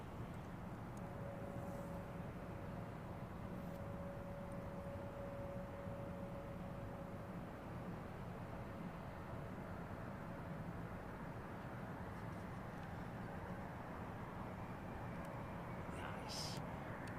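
Virgin Atlantic Airbus A330neo with Rolls-Royce Trent 7000 engines at Heathrow, a steady broadband jet roar holding level throughout with a faint tonal whine, heard from a distance amid outdoor airport ambience.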